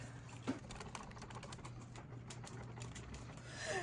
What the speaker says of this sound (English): Now we're just going to whisk this up.